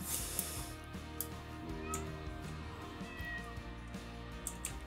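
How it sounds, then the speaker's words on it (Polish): A cat in Minecraft meows a few short times at moderate loudness over continuous background game music. "Kocie."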